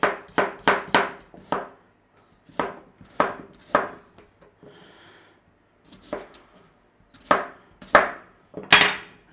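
A knife chopping the tops and tails off washed carrots on a cutting board, sharp close thuds in quick clusters of three or four with short pauses and soft handling sounds between.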